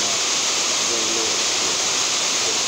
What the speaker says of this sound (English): And there are waterfalls.